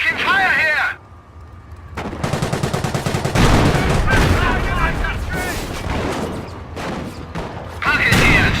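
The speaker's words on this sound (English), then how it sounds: "We are taking fire here!" Gunfire in a Normandy beach landing war game: rapid machine-gun bursts and heavy explosive booms, loud and dense, with shouted voices over the battle at times.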